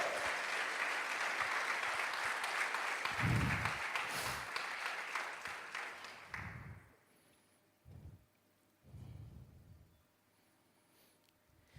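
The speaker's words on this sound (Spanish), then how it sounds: "dale un aplauso al Señor" A church congregation claps loudly and steadily for several seconds before the applause fades out, leaving a few dull thumps in the quiet.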